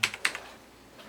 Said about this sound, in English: I was typing and then suddenly I was 3 pages down